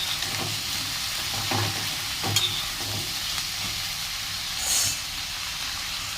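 Food frying in a pan sizzles steadily while a utensil stirs it, with several sharp scrapes and clacks breaking through the close, continuous hiss.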